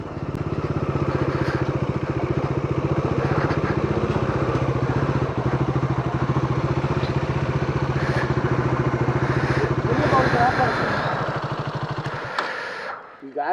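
A motorcycle engine runs steadily at a rural check post near the Kaveri river, a close, loud, continuous mid-pitched drone with rattling texture that cuts off near the end.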